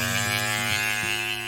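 An Andis GTX Black Label hair clipper with an X-Pro blade, running at 7,200 RPM, buzzes as a steady close electric drone with a rich harmonic hum, alone and continuous.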